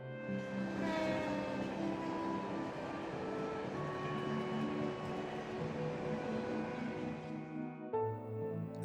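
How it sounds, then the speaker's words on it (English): A train passing at night in the video game Trails from Zero, a steady rumbling rush with tonal hum lasting several seconds, ending with a shift in tone. "Is that the last train bound for Calvert?"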